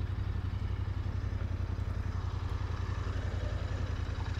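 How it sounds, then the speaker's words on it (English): Royal Enfield Interceptor 650 twin-cylinder motorcycle engine running steadily, a loud low rumbling drone with dense rapid pulsing that holds constant throughout, with no talk. "I'm loving the pickup from this twin engine."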